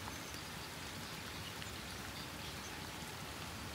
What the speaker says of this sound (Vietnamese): Trời mưa thiệt cả nhà.